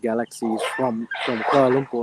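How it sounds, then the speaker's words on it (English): Dogs bark outside in a burst of repeated, yappy barks, loud and close to the microphone, overlapping a man's speech. "they're probably dogs fighting over something"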